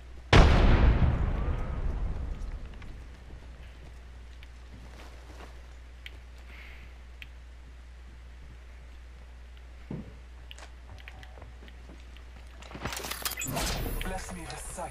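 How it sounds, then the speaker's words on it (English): A frag grenade in Apex Legends detonates in a loud booming blast that tails off into a long rumble, followed by quieter in-game sounds and another burst of noise near the end. "Frag grenade sent."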